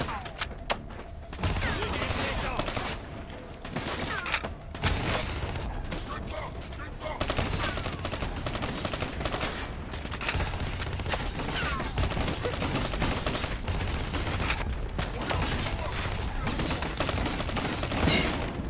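Dense, continuous gunfire in Black Ops 3 on PlayStation 4, layered shots and explosive crackle packed tightly together with almost no pauses, loud throughout with a voice talking over the battle.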